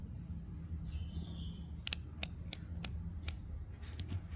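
A spring-retractable device clicks through its gear: about six sharp, faint ticks in an uneven sequence over a low steady hum, quiet and close, with no voices.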